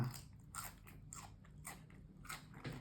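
Crisp bites and crunchy chewing on fresh cucumber eaten alongside Thai meatballs, a quick series of close, sharp crunches over a few seconds.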